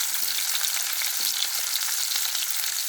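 Onion and green chili frying in oil, with a bright, steady sizzle and crackle holding evenly throughout and no talking.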